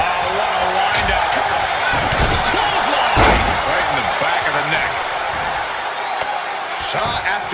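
In a WWE Elimination Chamber match, a wrestler is slammed face down in the ring with a series of heavy thuds and impacts, under excited commentary and crowd noise.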